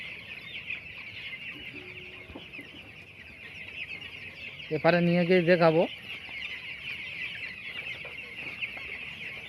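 Broiler chickens cluck on a poultry farm, with one short, loud burst of calls standing out over a constant steady hum, while a person speaks briefly.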